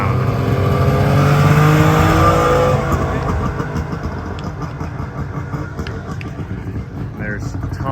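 A Saab Sonnet roars close by as it rips past at an owners' convention, its engine loud at first and then fading into a lower, rattling drone.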